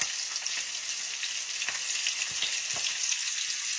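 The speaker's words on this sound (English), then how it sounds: "you can just stand out there while somebody's frying fish and you can be dropping in onion rings" Fish and onion rings frying in hot oil give a dense, steady sizzle with small crackling pops, close and continuous, without talk.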